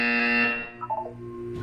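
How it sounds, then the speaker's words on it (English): The buzzer in the Portal video game sounds as a single loud, harsh electronic tone that holds for under a second, then fades into a softer hum. "You will hear a buzzer."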